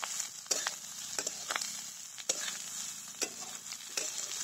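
Fried egg and cooked rice are tossed in hot oil for egg biryani. A constant bright sizzle runs underneath, with regular sharp spatula knocks and scrapes every second or so, fairly quiet and close.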